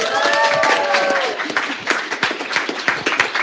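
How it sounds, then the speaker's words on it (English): A conference audience at a summer systematics institute's final presentations claps in a loud, dense round of applause, steady at first and then thinning into scattered individual claps toward the end, with faint voices underneath. "let's give an extra round of applause to Tala"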